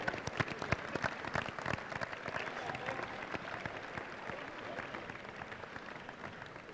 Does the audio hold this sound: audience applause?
yes